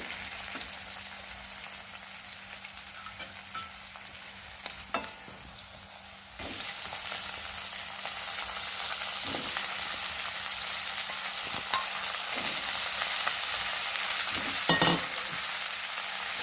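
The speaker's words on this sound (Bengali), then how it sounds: "একটু ভালোভাবে নেড়ে দেবো আলুটা আর কলাটা" Cut potatoes and green banana sizzle and crackle in hot oil in a pan alongside frying fish, a steady frying hiss that grows louder partway through, broken by scraping clacks of a spatula stirring, with no talking.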